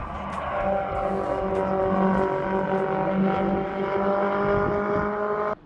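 Drift cars running on a race circuit at Mount Fuji in Yamanashi, Japan: a continuous, sustained engine whine with layered tonal harmonics and tire noise heard from a distance, ending abruptly.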